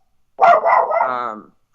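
A dog lets out a single drawn-out bark or yowl, close and fairly loud, with nothing else around it and a brief click at the very end.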